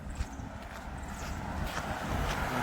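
A car rolls along a quiet road on Praslin, Seychelles, a steady low engine and tyre rumble that swells slightly toward the end, with faint wind in the background.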